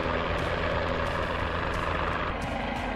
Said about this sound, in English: It's the helicopter that's doing this stuttering.